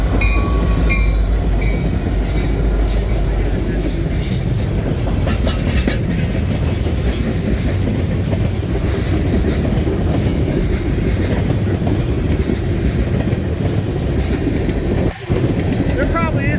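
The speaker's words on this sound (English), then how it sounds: "here comes the westbound first, rolling down the tracks" A long westbound freight train with 660 axles rumbles past in Durand, a loud continuous roar of rolling wheels and rhythmic clickety-clack with faint squealing, while someone talks over it.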